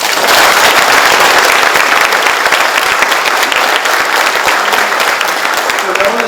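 Loud, dense applause fills a retirement ceremony for a Gyeongsangbuk-do vice governor, sustained clapping from a large audience that carries on strongly and eases slightly toward the end.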